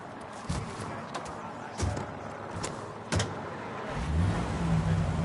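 A car drives in the Mafia video game. A mid-pitched engine hum runs under game ambience, broken by a few sharp clicks or thumps, and the engine grows louder and rougher near the end.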